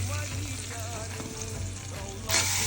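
Mustard seeds, fenugreek and green chilies sizzle in leftover fish-fry oil, a steady close crackling frying sound with a louder burst of spitting near the end.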